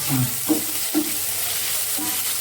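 Curry leaves dropped into hot oil in a pan for Kerala fish pollichathu (mackerel), giving a loud, steady sizzle with a few brief clinks and stirring scrapes.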